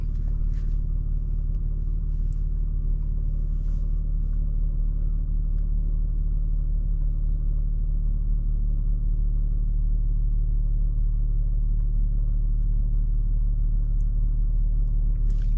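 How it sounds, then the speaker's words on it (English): Cabin of a 2025 BMW M2 with an 8-speed automatic on a test drive: a steady, loud low rumble of engine and road noise holds throughout with no speech, no gear changes or sharp revving. "let's begin the test drive of this 2025 BMW M2 equipped with the 8-speed automatic sport shift transmission"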